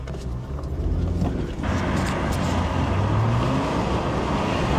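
Car engine and road rumble from inside a moving vehicle, steady and loud with wind buffeting, heading toward a tornado; a rising engine tone near the end.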